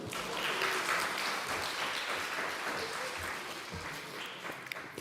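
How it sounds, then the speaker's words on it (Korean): A congregation of children and adults at a Children's Day church service claps in a steady, dense wash of applause lasting several seconds, fairly even in loudness and somewhat distant, with no clear speech over it. "동의하시는 분만 박수."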